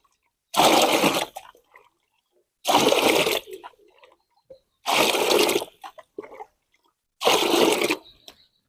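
Water is poured into a container to mix a spray solution for young plants, in four separate splashing bursts with short pauses between them.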